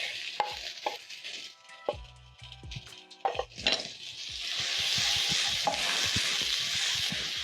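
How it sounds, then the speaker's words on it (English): Red onions hitting hot cooking oil in a pan for a cabbage and carrot stir fry, first sharp clinks and scrapes of stirring, then a loud steady sizzle building and holding close up. "stir in my onions and cook for around a minute until the onions are translucent or soft"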